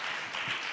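Brief, even applause from an audience at a children's summit pre-event in Kenya, a soft continuous patter of many hands with no voice over it.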